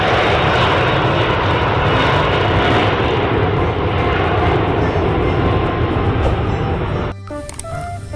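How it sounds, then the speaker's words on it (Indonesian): A loud, steady airplane engine roar fills the scene, sustained and close, then cuts off abruptly near the end, leaving quieter background noise. "Wow, lihat, ada pesawat terbang."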